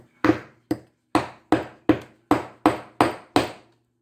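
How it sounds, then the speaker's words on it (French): Sharp taps striking the ferrite core of a small transformer during copper salvage, nine distinct knocks at a fairly steady rhythm, close and fairly loud, each with a brief ringing decay. "Même en tapant, on n'y arrive pas."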